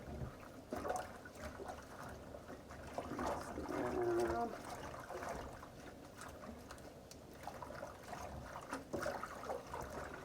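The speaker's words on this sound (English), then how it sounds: "we're just gonna pour them in here in the hot water. That way we can go ahead and wash them very thoroughly." Collard greens being washed in a bowl of hot water, soft sloshing, trickling and splashing that swells in the middle, fairly quiet and close.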